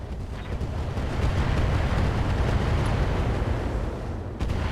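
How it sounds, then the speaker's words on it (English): Longbow mech launching a salvo of long-range missiles in the RogueTech video game, heard as a loud, continuous roaring rumble of rocket fire and explosions that swells and holds for several seconds before a brief dip near the end. "We're going to fire on him with the longbow"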